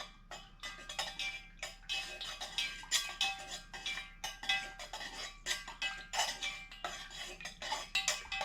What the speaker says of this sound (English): I'm just going to stir this in.